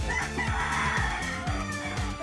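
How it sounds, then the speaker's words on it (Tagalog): Roosters and hens kept for cockfighting crow and cluck close by, several overlapping calls repeating within a couple of seconds over a steady yard background. "Mga manok niya."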